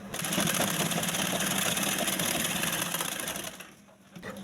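A sewing machine stitches cloth with a fast, steady mechanical whirr and rapid needle clatter close by, running for several seconds before slowing and stopping.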